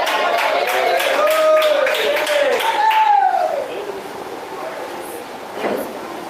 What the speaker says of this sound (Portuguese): Palmas de glória a Deus.